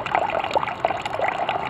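Water trickles and splashes steadily into a bucket of a biomeiler compost heating system, a close, continuous flowing and bubbling sound with no talking.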